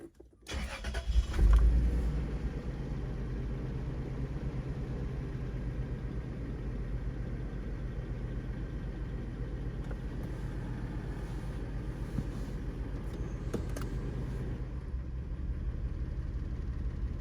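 A 2000 Toyota 4Runner with the 5VZ V6 engine and a misfiring fuel injector cranks and catches, then settles into a steady, continuous idle. Close, with no talking.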